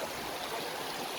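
Steady rushing water from a forest stream flowing near a waterfall in the Andhra agency area, a constant close hiss with no voices.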